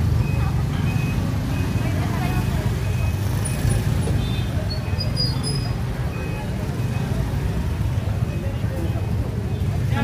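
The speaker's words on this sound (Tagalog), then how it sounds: "Busy street ng Kathmandu." Busy street traffic in Kathmandu, Nepal, with vehicles stuck in a jam: a constant low rumble of idling engines and passing cars, a repeating reversing beep and occasional horn, while a person talks nearby.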